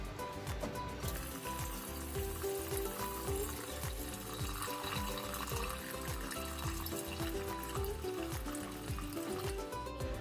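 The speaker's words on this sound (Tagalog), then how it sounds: "ngayon, maglalagay na po tayo ng tamang sukat ng tubig." Tap water runs and splashes into a pot of washed rice being measured out for cooking, a steady continuous pour with a busy, clattering kitchen background and no talk.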